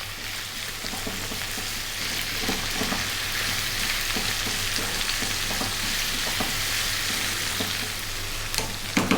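Chopped onion sizzles steadily in a hot pan for an egg potato curry, a loud, continuous frying hiss with occasional stirring scrapes and a few sharper crackles near the end.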